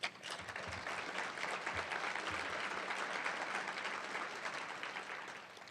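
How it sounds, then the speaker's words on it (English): Sustained audience applause fills a conference hall at a judicial summit welcome session, a dense steady wash of many hands clapping at moderate volume for nearly six seconds, tapering slightly at the end, with no voices over it. "This staff works very hard, and they should be applauded all the time."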